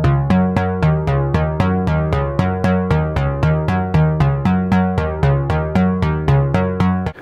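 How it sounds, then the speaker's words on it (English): A Korg KingKORG analogue-modelling synthesizer playing through its modelled P5 filter, a steady run of rapid repeated plucky notes with bright decaying harmonics, loud and close with no voices. "We've also modelled what we're calling the P5 filter, which sounds like this."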